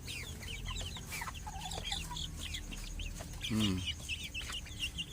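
Chickens cluck and chatter steadily nearby, with one louder drawn-out squawk partway through and a faint hum in the background.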